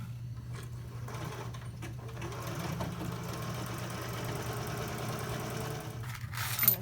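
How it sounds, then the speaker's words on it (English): A sewing machine runs a continuous stitching pass along the top edge of a drawstring channel on a backpack. Its motor hum and rapid needle chatter stay steady and close, with a small bump near the end. "Your last step for sewing is going to be to sew along the top edge 1 inch"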